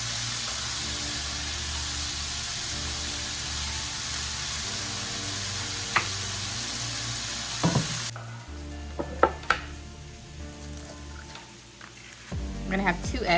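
Eggs frying in a pan, seasoned with a little salt and a lot of pepper: a steady, fairly loud sizzle that stops partway through and gives way to a few light clinks and kitchen handling noises.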